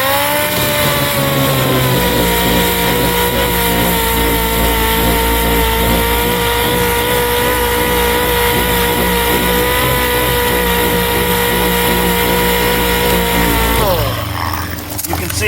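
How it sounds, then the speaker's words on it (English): An air compressor runs steadily in a garage during rust repair work on a 1974 Dodge D100, a continuous droning hum with tonal harmonics. It holds level for about fourteen seconds before cutting off. "The air compressor's running in the background."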